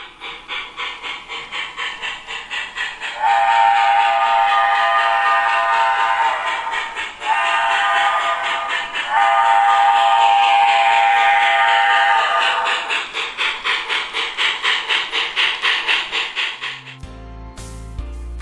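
A New York Central streamlined Hudson steam locomotive of the Empire State Express blows its whistle in long sustained blasts over rhythmic chuffing, the train pounding steadily nearby before a short burst of music at the end.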